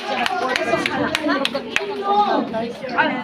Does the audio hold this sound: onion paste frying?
no